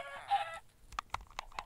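Chicken sounds from the Minecraft video game, a short burst of clucking followed by several brief, sharp clucks in an uneven rhythm, fairly close and clear with no talking.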